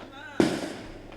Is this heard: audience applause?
no